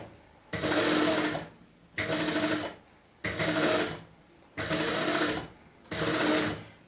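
Five steady bursts from a sewing machine, about a second each, stitching a round neckline with half-foot seams. Short pauses separate the bursts, the machine is close and loud, and nothing else is heard.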